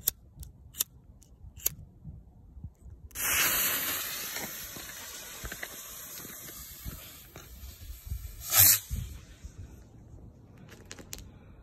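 Homemade bottle rocket launching: a few sharp clicks, then a sudden loud rushing hiss that holds steady for several seconds, with a brief louder burst near the end before it fades, heard close outdoors.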